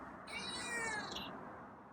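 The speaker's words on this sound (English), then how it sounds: "He meowed, and he's presenting himself." A feral cat gives a single drawn-out meow, quiet and close, rising and falling over about a second against a faint room background.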